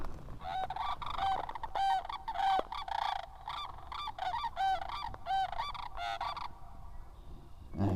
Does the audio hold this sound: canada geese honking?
yes